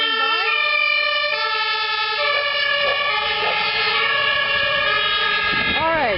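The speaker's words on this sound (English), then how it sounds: "With the ambulance going by." An ambulance siren wails past in Berlin near Frankfurter Tor, its rising and falling tones loud and close, over a low rumble of road traffic.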